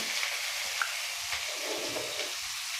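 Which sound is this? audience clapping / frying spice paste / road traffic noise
frying spice paste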